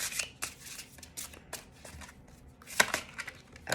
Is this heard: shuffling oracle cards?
yes